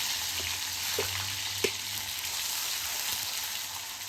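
Mustard seeds splutter and crackle in hot oil, a steady sizzle with a few sharper pops, close by.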